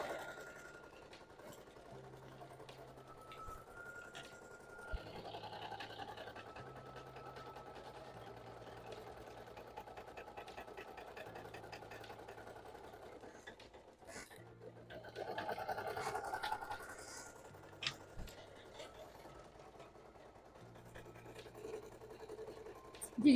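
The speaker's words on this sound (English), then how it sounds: "I'm kind of waiting for this embroidery to get done because then it won't be so loud" An embroidery machine runs steadily in a home sewing room with a continuous mechanical hum and rhythmic stitching chatter. People chat quietly over it.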